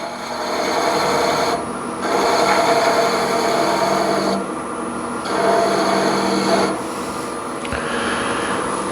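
A skew chisel rolls beads on a spinning piece of wood on a lathe, making a steady, loud rasping cut that surges in long strokes separated by brief quieter gaps.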